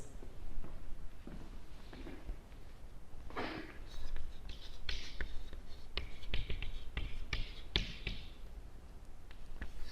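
Someone draws a Hasse diagram for a discrete mathematics lesson, producing short scratchy writing strokes in irregular bursts with light taps, fairly quiet and close, with no clear speech.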